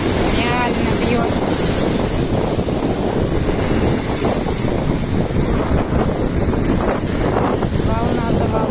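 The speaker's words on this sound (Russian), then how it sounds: "Волна за волной." Strong sea waves surge and break one after another on the Black Sea shore at Gagra in the evening, a loud continuous roar with heavy wind buffeting the microphone and a voice speaking over it.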